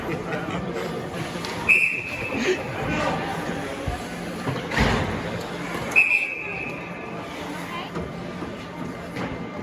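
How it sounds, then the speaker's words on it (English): During a youth bantam ice hockey game, a referee's whistle blows twice in sharp, shrill blasts several seconds apart, with rink crowd noise and talking underneath. "Now we have whistles."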